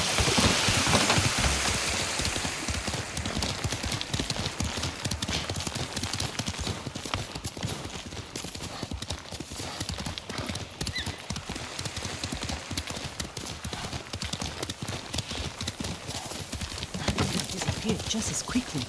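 Horse hooves clip-clopping through heavy rain in the Ghost of Tsushima video game, a steady patter of rain on surfaces with irregular hoofbeats running underneath, continuous and moderately loud.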